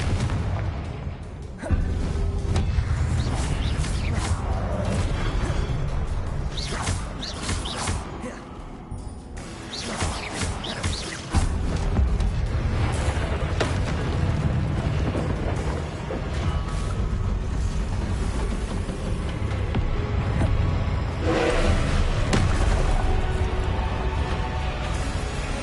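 Repeated Confringo fire-spell blasts from the Hogwarts Legacy video game, booming and bursting in close succession over a dense, loud layer of game sound and music throughout.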